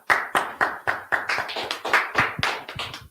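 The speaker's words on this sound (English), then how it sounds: "Let's go ahead and clap it up." A class clapping hands together in a steady rhythm, about a dozen sharp, close claps at an even pace with no talking.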